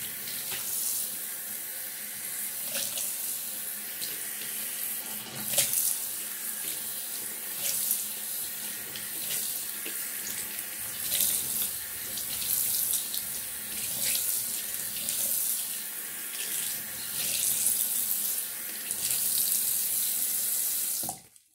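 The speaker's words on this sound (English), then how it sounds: "I want to rinse out the mask again, because it's sitting right on the table." Tap water runs steadily into a sink while a face mask is rinsed under the stream, a continuous close splashing wash with small shifts in flow and no talking.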